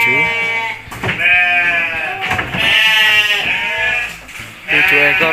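Texel sheep on a farm in Gunungkawi, being shipped to a breeder in Pasuruan, bleat loudly in several long, wavering calls that follow one another with brief pauses, close to the listener.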